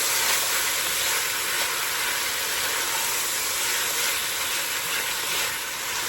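Beef tips sizzle and fry loudly in a hot pot seasoned with black pepper and garlic salt, a steady dense crackling hiss that runs unbroken throughout with no talking.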